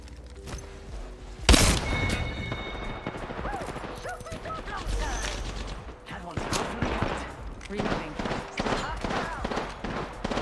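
Rapid automatic gunfire and shots in the video game Apex Legends, dense and continuous with one sharp loud burst early, under excited voices talking.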